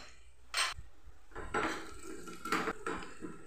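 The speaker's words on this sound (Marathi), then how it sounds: "तो पण कांदा कांदे चांगला परतूया" Chopped garlic and onion are stirred in a pan for dal tadka, with a few scraping clatters of a spoon against the pan at uneven intervals over a soft sizzling background.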